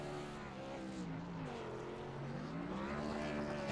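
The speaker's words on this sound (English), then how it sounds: "And Brostrom also doing some burnouts," A race car in a racing video game doing burnouts at Kentucky after sunset, a steady droning engine tone that rises and falls in pitch as it revs, continuous and fairly close with no talk over it.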